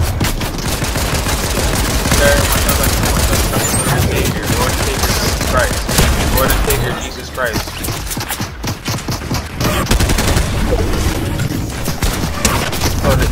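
Rapid gunfire from a PC shooter video game crackles in dense, continuous bursts, loud and busy throughout, with people talking over the shooting.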